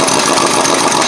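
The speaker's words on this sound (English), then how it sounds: "I have a gun right with me. An air gun." A pneumatic air impact gun works on the front suspension of a 2001 Ford Explorer Sport Trac during a lower ball joint replacement, giving one loud, close, continuous buzzing rattle that fills the short moment.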